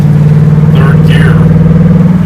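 A Ford Mustang Bullitt V8 accelerates in third gear on a mild spring day with the window down, a loud, steady, pulsing low engine drone close up, with a voice speaking over it briefly.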